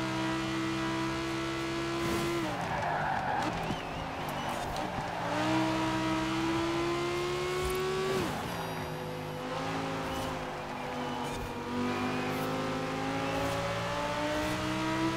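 ItalDesign Zerouno engine racing in Forza Horizon 4, a loud high-pitched whine rising and falling through gear shifts, with tire squeal in places and no talk.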